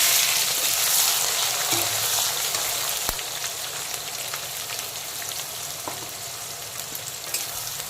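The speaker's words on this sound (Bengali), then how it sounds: "এখন দিয়ে দিচ্ছি প্রথমে পেঁয়াজ কুচি।" Chopped onions fry in hot oil with whole garam masala and dried red chillies for a spicy green jackfruit and egg curry, giving a steady, dense sizzle with a few faint clinks.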